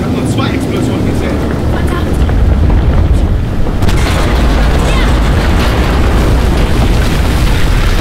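Deep, rumbling explosions from the video game Battlefield 4 fill the whole stretch with loud, continuous booming and mechanical roar, swelling stronger after the midpoint.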